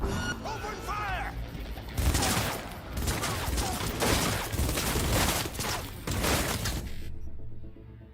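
Rapid bursts of gunfire in the video game Cyberpunk 2077, loud overlapping shots with crashes and whooshes in a chaotic firefight, ending abruptly.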